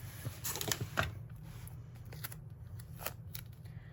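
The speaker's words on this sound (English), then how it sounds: "So I'm going to cut straight edges" Scissors snip straight edges into paper in a creative paper journal with washi tape, a few close, crisp cuts clustered early, then quieter rustling of paper.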